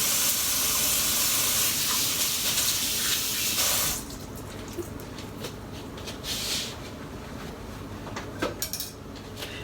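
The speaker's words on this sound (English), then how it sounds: "then of course wash my hands because I touched the raw" Running kitchen tap water pours loudly for about four seconds as hands are rinsed, then turns to softer splashing and intermittent water sounds.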